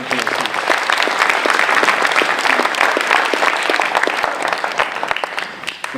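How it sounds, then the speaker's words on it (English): An audience at a 2014 Coquitlam all-candidates debate applauds the candidates, producing a sustained wash of clapping with distinct sharp claps standing out throughout, fairly close and even in level. "We'll invite a round of applause for the candidates."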